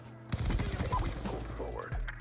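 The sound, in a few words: M8A1 rifle gunfire in a shooter video game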